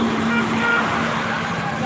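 Steady traffic hum of vehicles passing on a village road, continuous and fairly loud throughout with a faint horn-like tone, no clear voice over it.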